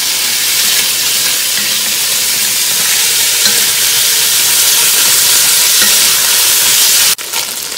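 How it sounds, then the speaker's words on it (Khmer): Chicken stir-frying in a pan over garlic fried golden in oil gives a loud, continuous sizzle with hissing steam, which drops off sharply near the end, with no talking. "មកយើងឆានៅក្នុងរយៈ8ទៅ10នាទី"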